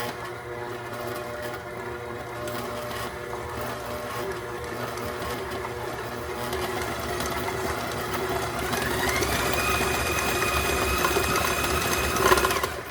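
An electric mixer in a bowl of egg nog cookie dough runs as a steady, close motor whir, its pitch climbing as it is switched to a higher speed near the end, with no talking.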